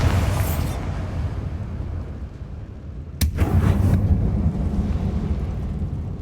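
A Bombarda blasting spell goes off in Hogwarts Legacy, a sharp burst followed by a deep rumbling explosion over a low, continuous roar of battle noise.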